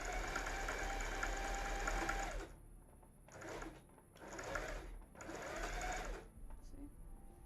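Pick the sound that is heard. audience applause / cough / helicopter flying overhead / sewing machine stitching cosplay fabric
sewing machine stitching cosplay fabric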